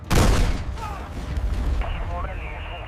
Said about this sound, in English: The Patton tank recoiled as a massive shell exploded out of its barrel.